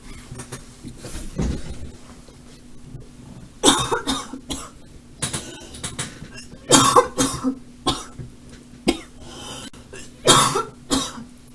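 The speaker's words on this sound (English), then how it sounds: "I'm just gonna start the stream coughing my guts up" A man coughing repeatedly at the start of a live gaming stream, with harsh bursts in irregular clusters, close to the microphone, separated by quieter pauses.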